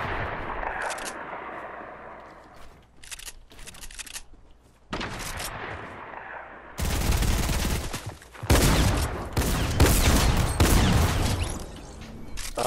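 Bursts of rapid gunfire in the video game Fortnite, first scattered shots, then dense, loud volleys growing heavier toward the end, close and sharp with no voices.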